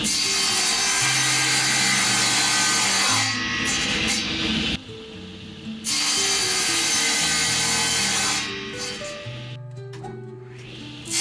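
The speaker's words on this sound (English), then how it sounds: "Now this is a perfect time for us to use the adjustable miter sled" Wood being cut on a table saw with an adjustable miter sled: a loud, steady saw whine runs for several seconds, stops briefly, then resumes and tapers off as the blade spins down.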